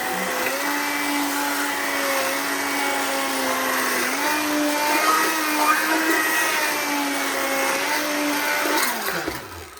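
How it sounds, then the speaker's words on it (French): An electric blender whirs steadily, puréeing strawberries with sugar and water into a syrup, a loud continuous motor drone with slight shifts in pitch before it winds down and stops near the end. "Un petit coup de mixeur dans les fraises avec le sucre et l'eau."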